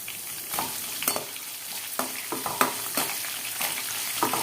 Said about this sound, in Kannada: ಇದು ಫ್ರೈ ಮಾಡ್ಕೊಳ್ಳೋಣ.